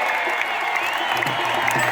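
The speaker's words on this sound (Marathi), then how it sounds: "टाळी टाळी टाळी टाळी टाळी." Large crowd at the Jamner kusti wrestling ground applauding and cheering in a continuous, even wash of clapping, with occasional whoops rising above the mass of hands.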